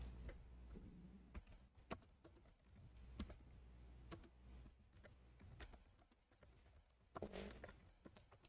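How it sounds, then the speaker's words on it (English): Sparse taps on a computer keyboard, single clicks spaced a second or more apart in an otherwise quiet room, ending in a sudden louder thump. "Oh, we are typing"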